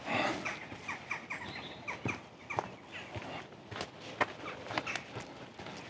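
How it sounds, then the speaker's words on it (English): Rooks and crows calling in a fenced park aviary, a busy mix of repeated harsh caws and chatter, some near and some farther off, over steady outdoor background noise. "there's rooks and crows. You can certainly hear them."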